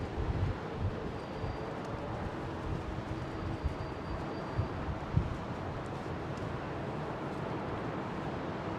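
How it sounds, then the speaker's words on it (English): Strong storm wind roars steadily over sheds at London Heathrow Airport during Storm Franklin, a continuous loud rushing gust with occasional buffets and no talk. "the wind is barreling over these sheds and causing these guys turbulent air that's rolling over"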